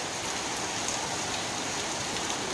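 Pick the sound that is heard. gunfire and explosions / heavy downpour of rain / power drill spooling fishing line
heavy downpour of rain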